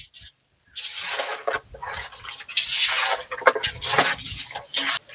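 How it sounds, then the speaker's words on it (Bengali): Wet squishing and rubbing as salt and turmeric are worked by hand into washed bighead fish for a village-style curry, a close, irregular series of soft squelches and drips with no talking. "এবার নুন হলুদটা ভালো করে মাখিয়ে নেবো"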